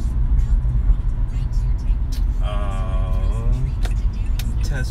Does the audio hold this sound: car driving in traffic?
yes